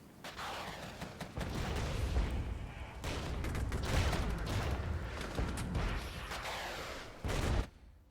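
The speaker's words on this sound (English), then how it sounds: "We need these Bradleys to go fire on the T-64s. With their missiles, that should be good enough to take them out." Bradley fighting vehicles launch missiles at T-64 tanks in a military strategy game, with a dense run of loud booms, gunfire and blasts continuing throughout and a sharp burst near the end.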